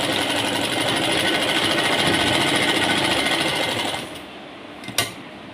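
A sewing machine stitches the belt of a farshi salwar, a loud, fast, steady mechanical whirring that stops near the end, followed by a couple of small clicks.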